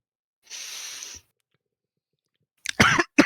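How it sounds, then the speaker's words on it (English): Throat sounds from a fantasy tabletop roleplaying session: one short, breathy burst, then after a pause a few rough, close coughs in quick succession. "goes into a coughing fit at this"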